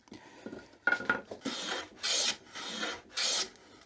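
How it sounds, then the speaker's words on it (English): A number 5 hand plane takes shavings off a board in a series of close, rasping strokes, several short scrapes at first and then three longer, evenly spaced swishing passes, each starting and stopping cleanly. "it can be set up to take a nice smooth shaving"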